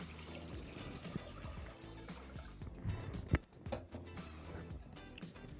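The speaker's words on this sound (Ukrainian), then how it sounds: "і наливаємо звичайну металеву кастрюлю" Tap water splashes and trickles steadily into a plain metal pot, with a brief louder clank partway through and a busy, clattering kitchen backdrop.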